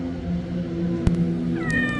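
A cat meows a few times near a shelter's feed storeroom, the drawn-out, rising calls coming late and fairly close over a steady low background hum.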